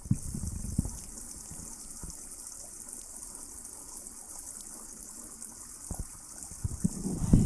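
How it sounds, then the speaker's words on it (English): Soft, steady running water from a babbling brook, distant and muffled, with a few low thumps near the start and end. "the babbling brook should be at a distance"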